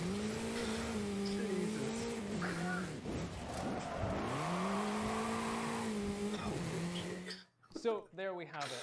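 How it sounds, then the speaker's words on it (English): A red Ferrari in the Forza racing game, its engine droning and revving up and down with tires squealing through turns, steady and fairly loud, ending in a brief burst of shifting engine tones. "I think they're doing very well with the car sounds."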